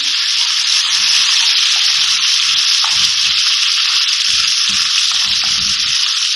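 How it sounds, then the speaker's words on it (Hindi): Garlic ginger paste and green chillies sizzle in hot oil in a pan, a loud, continuous hiss broken by soft scraping and stirring strokes. "लहसुन अदरक डाल के मैंने थोड़ा सा भून लिया है।"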